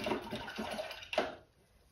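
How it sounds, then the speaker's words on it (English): A paintbrush swished in a water jar during acrylic painting gives a run of close, soft watery splashes and swirls, ending with a brighter slosh before going quiet. "Rinse your brush out"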